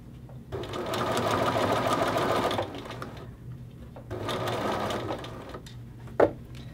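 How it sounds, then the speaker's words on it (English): Sewing machine stitching across a hoodie neck facing, two sustained close bursts of running with a pause between, ending in a brief sharp click. "you will stitch all the way across the neckline from jacket front to jacket front"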